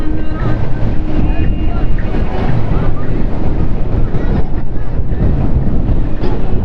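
Strong wind roars at sea aboard a fishing boat, loud buffeting across the microphone with wave wash beneath, steady throughout.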